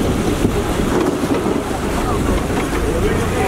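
A bus fords a river near Setu Dobhan bazaar in Syangja, Nepal. Steady close rumble and churning water wash run throughout, with wind buffeting the microphone.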